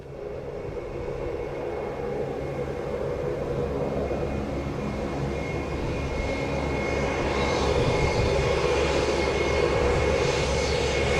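A fixed-wing airliner roars on the runway at Montego Bay airport in Jamaica, a loud, steady engine drone that swells gradually as it builds power, heard alone without talk.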